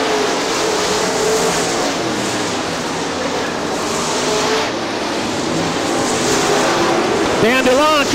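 Super late model race cars roar around Crystal Motor Speedway in Crystal, Michigan, a loud continuous engine drone rising and falling as cars pass, with a nearer engine sweeping up in pitch near the end.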